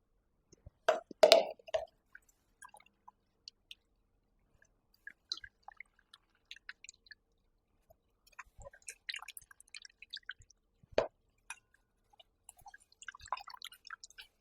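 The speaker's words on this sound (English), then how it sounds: "just squeeze out all the coconut milk." Coconut milk squeezed by hand through a strainer for Jamaican rice and peas, a quiet burst of wet squishing and dripping near the start, then scattered soft drips and a brief later squish, no talk.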